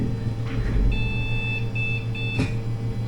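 A Dell Dimension XPS D333 computer booting with error beeps, likely from a dead CMOS battery: short high electronic beeps in a quick series over a steady low fan hum, with a brief click near the end.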